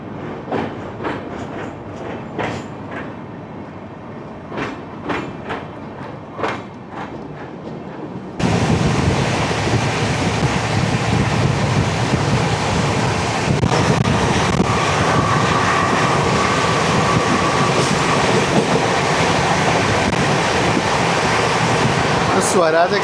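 The Swaraj Express passes close by. After several seconds of quieter rolling and faint knocks, a sudden loud, dense roar of rushing wagons begins and continues unbroken to the end.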